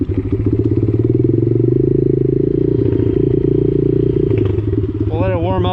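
A modded pit bike engine idles while warming up, a loud, close, steady throbbing rumble with rattling mechanical clatter, and a brief rising rev near the end.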